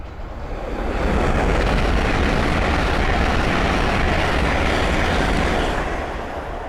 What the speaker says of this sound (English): the next train to pass by is a Hull train 800 from Edinburgh Waverley to London King's Cross